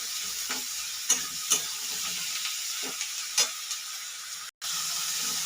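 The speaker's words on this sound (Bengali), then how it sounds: "এরপরে আমি মাশরুমটা দিয়ে দেবো, এদের সাথেই ভাজা ভাজা করবো আমি।" Mushrooms frying with onion and capsicum in a pan: a steady close sizzling hiss broken by a few sharp clicks of stirring, then a brief drop to silence near the end.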